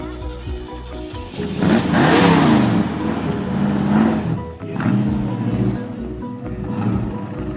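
A Ford Mustang engine revs at a car show, climbing into a loud roar, easing off, then rising again in waves over a steady idle rumble.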